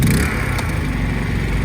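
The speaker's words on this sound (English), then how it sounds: "at the moment the generator's just idling because Ken's pump's not drawing any power" A portable generator runs at a steady idle with no electrical load while a connected pump draws no power, giving a continuous low engine drone throughout, fairly loud and close, with no talking.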